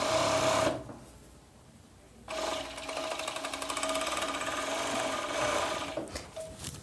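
A sewing machine stitches elastic onto the waistband of a women's long-sleeve pajama set, its motor running loud and close in steady bursts with one short pause before stitching resumes.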